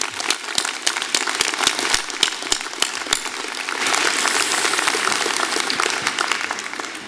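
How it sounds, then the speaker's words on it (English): Applause at a university arts and sciences convocation ceremony: a few sharp, scattered claps at first, then the audience joins in with fuller, steady clapping to the end. "Please, let's give them a round of applause."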